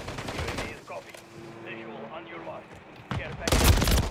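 Gunfire from the shooter game Call of Duty Modern Warfare III: rapid shots crackle in bursts around someone talking, with a louder, denser volley closing the moment.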